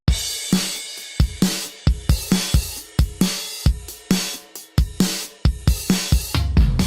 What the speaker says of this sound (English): Here I have these drums, they're a stereophile, and they sound like this.